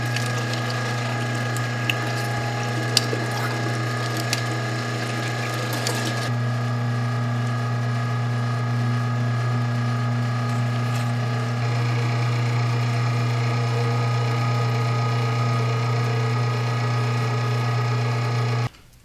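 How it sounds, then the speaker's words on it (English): An electric meat grinder works steadily through hot dog meat, a continuous loud mechanical whir with a low motor hum and faint clicking, the tone shifting slightly partway through, running alone until it cuts off at the end. "Now we're ready to grind."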